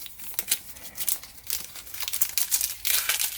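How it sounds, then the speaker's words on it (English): Plastic packaging crinkles and crackles close to the microphone as fake AirPods Pro clone earbuds are unwrapped, in a series of short rustling bursts that grow denser toward the end. "So here are our AirPods, let's unwrap them."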